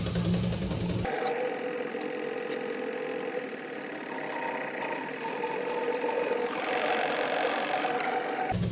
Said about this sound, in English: turn that suction pump on, and what that's gonna do is it's gonna draw that fluid out